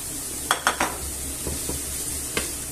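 Sausages frying in a pan, a soft continuous sizzle with several sharp clinks and scrapes of a utensil moving them about.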